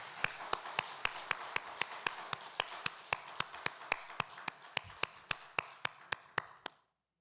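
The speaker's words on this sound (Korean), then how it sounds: "하나님께 영광의 박수 올려드립시다" A church congregation claps in steady unison during a Sunday service, an even run of about twenty-five sharp claps that slowly fades before stopping.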